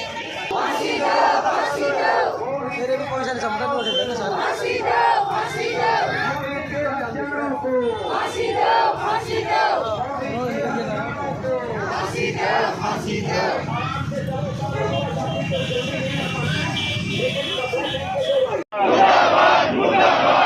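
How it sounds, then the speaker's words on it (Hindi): A street protest crowd chants slogans against the local police administration in loud, rhythmic unison, voices repeating the call over and over with a brief drop near the end. "कुंडली पुलिस प्रशासन हाय हाय, कुंडली पुलिस प्रशासन हाय हाय, कुंडली पुलिस प्रशासन मुर्दाबाद"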